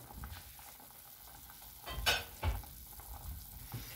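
A pot of rice with pigeon peas bubbling on the stove, a soft steady seething with a few louder pops and stirs partway through, heard close and fairly quiet with no talking.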